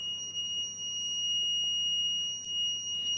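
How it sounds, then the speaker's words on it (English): Power-failure alarm on an oxygen concentrator under repair, a steady high-pitched electronic tone with harmonics sounding continuously and fairly close over a quiet background hum, no talking. "So it beeps because it thinks it's a power cut."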